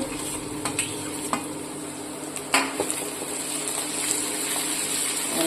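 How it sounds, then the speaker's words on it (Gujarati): Tomato, garlic and onion being stirred in a pan while cooking rajwadi khichdi, giving a steady soft sizzle with scattered scraping clicks of the spoon, close and alone. "મિક્સ કરી લઈશું આપણે ટમેટા અને લસણ ડુંગળીના ભાગમાં"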